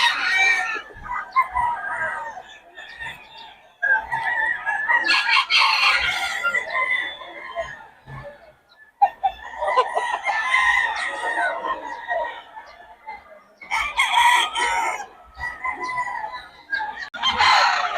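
Roosters crow repeatedly, several loud drawn-out calls close by with clucking between them, each crow rising and trailing off, at a poultry sale in Bocaue.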